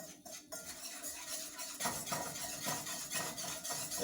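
A whisk scrapes and clinks steadily against a pot as milk is worked into flour for a bechamel sauce, close and continuous with rhythmic metallic taps.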